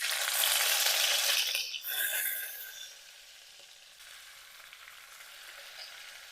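Smoked pork sizzles loudly in a hot pan, a dense steady frying hiss that briefly dips and then settles into a quieter, even crackle.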